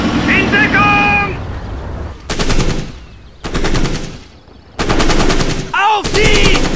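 Bursts of machine-gun fire in the war video game Codename: Panzers come in several loud, dense volleys separated by short gaps, with shouted voices heard near the start and between bursts.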